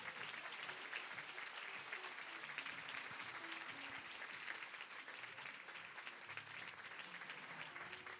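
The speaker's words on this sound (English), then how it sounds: "Give them a round of applause one more time." A crowd at a scholarship awards ceremony claps steadily, a dense, even wash of applause that continues throughout, faint and somewhat distant.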